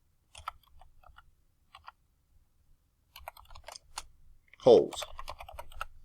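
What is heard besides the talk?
typing text on a computer keyboard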